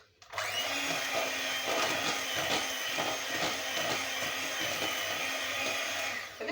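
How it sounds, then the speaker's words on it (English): An electric mixer whisks lemon cake batter, a close, steady motor whir that runs without a break for about six seconds with no talking. "Then I whisk."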